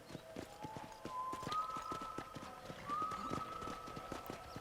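Horse hooves in Red Dead Redemption, a steady rhythmic clip-clop of a trotting horse, moderately close and fairly quiet, with a faint tonal hum running beneath.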